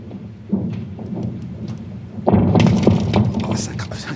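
Thick frozen ice on Siberia's Lake Baikal cracks with deep, thunder-like booms: a soft rumble first, then a loud sharp rupture that rolls on into a sustained crackling roar outdoors, with voices faintly audible.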